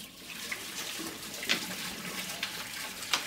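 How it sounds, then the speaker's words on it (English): Water glugging out of upturned bottles in a classroom race, a continuous gurgling pour with a few splashy bursts, fairly quiet, without talk. "we're just going to turn our bottles upside down and see who can get the water out of it the fastest"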